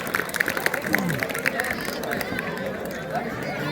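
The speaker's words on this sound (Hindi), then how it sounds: "बच्चों जोरदार तालियां बजाइए।" Children clapping loudly together, a dense and steady patter of many small hands mixed with excited chatter and a few shouts, continuous throughout.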